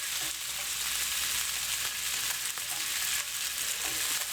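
Meatballs frying in a pan for linguine and meatballs, giving a steady, close sizzle and crackle that runs unbroken throughout with no talk over it.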